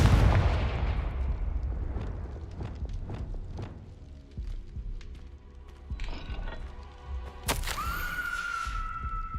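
Confringo blast spell in Hogwarts Legacy, a loud booming impact that decays into mechanical rumbling and clanks, followed later by a bright rising whoosh and tone.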